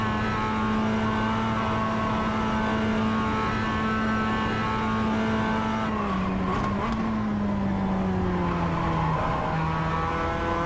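Mazda MX-5 race car in the iRacing simulator held flat out in fourth gear around the Nürburgring, a loud, steady, droning engine note that sags in pitch midway, with a brief tyre squeal, no talk.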